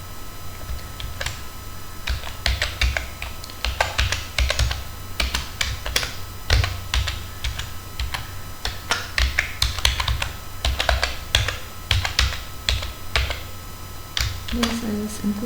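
Code being typed on a computer keyboard for an ARM Cortex-M4 I2C program, with quick bursts of close, crisp key clicks and short pauses between runs of typing.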